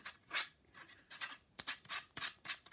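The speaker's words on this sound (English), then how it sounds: "Any little pieces that are splintered, clean them up with some sandpaper." Sandpaper rubs over splintered wood for a small table easel, in quick, close, raspy strokes that come in uneven bursts with short pauses between.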